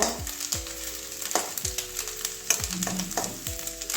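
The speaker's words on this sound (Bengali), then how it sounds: "ভালো করে ভেজে নেব" Rohu fish roe frying in a pan gives a close sizzle broken by regular knocks and taps of a spatula breaking it up, with faint tonal hum in the background.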